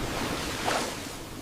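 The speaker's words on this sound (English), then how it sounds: "The waves are racing with us." Ocean waves surge in a cartoon car-racing scene, a steady broadband wash of surf at moderate level running through the whole moment with a slight swell in the middle, no voices.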